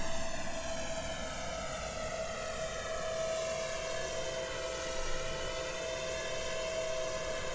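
A simulated airliner engine in a Roblox flight game whines steadily during takeoff and climb, a loud continuous jet hum with slowly shifting tones and no talk over it.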